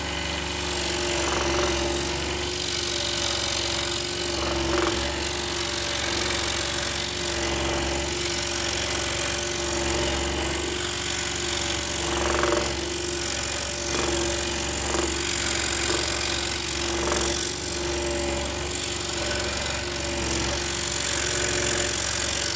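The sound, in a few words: scroll saw cutting a workpiece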